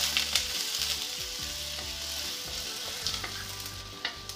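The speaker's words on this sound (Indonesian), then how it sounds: "Tumis bawang putih hingga harum" Garlic sautéing in a little hot oil while being stirred, a constant bright sizzle close by with light spoon scrapes and soft clicks against the pan.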